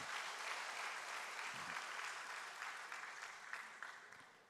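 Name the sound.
audience applause in church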